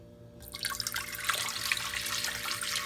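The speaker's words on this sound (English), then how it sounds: "I'm just gonna add some water to it before it actually warms up" Water runs steadily from a tap into a pan with bacon grease, a continuous splashing hiss that swells slightly as it fills, close by with no talking.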